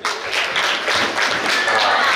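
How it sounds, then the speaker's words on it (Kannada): An audience claps for children at a national children's festival's Krishna costume contest in Mangaluru: dense, sustained applause filling the hall, with some voices mixed in. "ಆ ಮಕ್ಕಳಿಗೆ ಖುಷಿ ಆಗ್ಬೇಕಿದ್ರೆ ನೀವು ಚಪ್ಪಾಳೆ ತಟ್ಟಬೇಕು."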